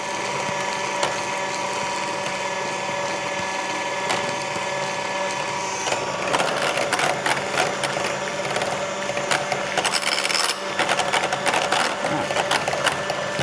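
An electric whisk runs continuously through a mixture with a steady mechanical whir. About halfway through it becomes rougher and more clattering, with rapid ticking as the beaters work the thickening batter.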